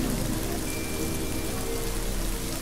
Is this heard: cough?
no